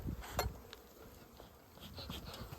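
Honey bees in a winter hive during a check, giving a soft, steady buzzing hum throughout with a few brief louder knocks near the start, close and fairly faint.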